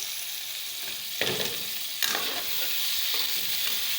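Tomato and ground spices (turmeric, salt, red chilli, dried coriander) sizzle in a pan for a baingan bharta, with a soft constant frying hiss broken by a few scraping stirs of a spoon.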